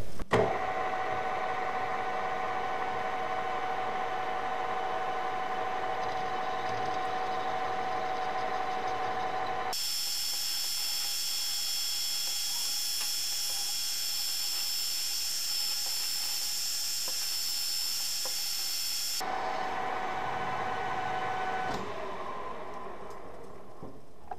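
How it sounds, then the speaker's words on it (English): Lathe turning the outside diameter of an aluminum rod for a custom fidget spinner, a steady high-pitched machining whine that holds throughout and shifts sharply in pitch partway through, with no talking. "I'm going to clamp them on and turn the outside diameter and the rest of it, finish it up."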